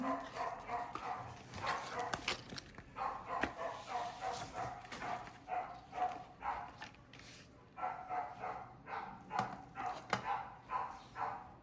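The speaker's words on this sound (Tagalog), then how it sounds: "Naiinip yung aso ng aking neighbor. Nakatali, yun yung inyong nadidinig." Neighbor's tied-up dog barking repeatedly in bursts at a distance, faint and steady, with some yips, outdoors in a home kitchen setting.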